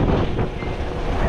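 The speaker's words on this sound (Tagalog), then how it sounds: "Lakas ng hangin." Strong wind buffets the microphone outdoors with a continuous loud rumbling roar, low and heavy, with no talk over it.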